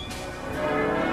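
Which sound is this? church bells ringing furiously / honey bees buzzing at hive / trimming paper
church bells ringing furiously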